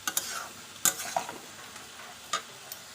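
Fish curry with drumsticks being stirred after sugar is added, a soft simmering sizzle under a few crisp clinks and scrapes of a spatula against the pan, close by.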